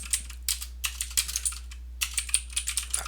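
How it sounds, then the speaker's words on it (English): Quick bursts of keystrokes on a computer keyboard while a heading is typed in a word processor, clicking in irregular clusters with short pauses between, close and clear with no talking. "I type new heading here"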